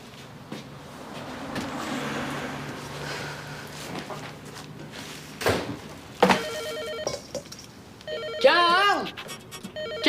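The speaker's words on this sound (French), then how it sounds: "Téléphone!" A telephone bell rings in a home in bursts toward the end, a bright electronic trill under the lively talk of several voices, with thumps and movement noises before it.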